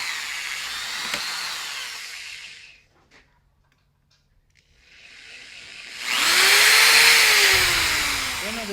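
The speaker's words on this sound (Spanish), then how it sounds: "ahora vamos a proceder a taladrar cada uno de los agujeros de nuestro circuito" A small electric drill boring holes one by one through a bakelite printed circuit board for a ±24 V power supply, whining loudly in bursts with a quiet pause between passes.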